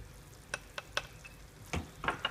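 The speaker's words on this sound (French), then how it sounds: "je remue le tout pour former en fait une boule" Flour and yeast being stirred by hand into a melted mixture in a bowl, a few soft scraping strokes spaced irregularly, close and quiet with no talk.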